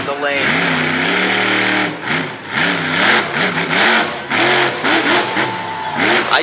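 Monster truck engine revving hard in a dirt and sawdust arena during a car-crushing run, rising and falling in repeated loud bursts with the roar of the crowd and a commentator's voice over it.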